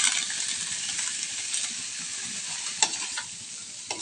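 Garlic butter shrimp frying in a pan, a steady bright sizzle with occasional scrapes and clinks as a utensil stirs, close and alone.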